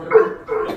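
A voice imitates a dog, giving two short, close barking yelps with a brief pause between them.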